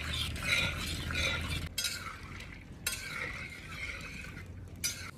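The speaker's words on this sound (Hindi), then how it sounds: "सबसे पहले जाएंगे जी बादाम। बादामों की भुनाई करेंगे।" Almonds roast in hot desi ghee for panjiri, with a soft continuous sizzle under repeated scraping and stirring of a utensil against the pan, close-up and without talking.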